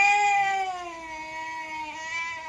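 A cat gives one long drawn-out meow that wavers and slowly falls in pitch, close and clear over quiet background.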